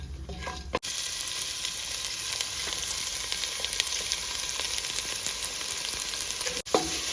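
Chopped onions fry in hot oil with whole spices for Afghani biryani, a loud continuous sizzle with occasional stirring scrapes, framed by sharp clatters at the start and end.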